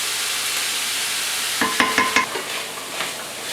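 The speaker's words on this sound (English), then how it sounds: "the smell of the onions and celery frying" Onions and celery sizzle in a pan with a few quick stirring clatters, close and fairly loud, no voices.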